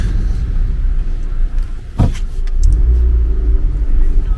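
Steady engine rumble of a car moving through city traffic in Istanbul, close and continuous, with a brief passing whoosh midway and no voices.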